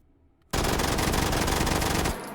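A Mac 10 submachine gun fitted with a muzzle brake fires one continuous full-auto burst in the H3VR virtual reality game, a loud, dense rattle of about a second and a half that starts abruptly after a short silence and cuts off sharply.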